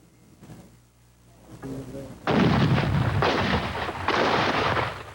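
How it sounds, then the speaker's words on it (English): After a quiet, murmuring lead-in, a deep cannon salute blast booms loudly at a Civil War burial service, echoing and rumbling, followed by a second heavy boom. "A cannon salute"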